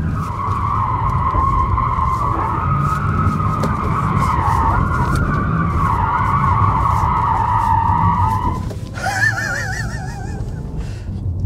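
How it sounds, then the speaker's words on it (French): An Audi RS e-tron GT slides sideways around a wet roundabout, its tyres squealing in a loud, sustained wail that wavers and shifts pitch near the end. "Peut-on faire un tour de rond-point en travers?"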